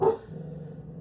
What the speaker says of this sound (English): That's my dog, Honeybee.